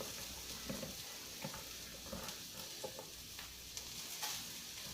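Onions sizzle in a preheated pan with ginger and garlic, a faint continuous frying hiss broken by occasional soft stirring clicks and taps.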